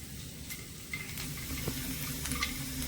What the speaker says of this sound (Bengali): পেঁয়াজটা একটু নরম হয়ে আসা পর্যন্ত ভেজে নেব